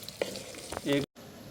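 Taro root (arvi) frying in a pan hisses and crackles up close. A brief voice rises over it before the sound cuts out abruptly.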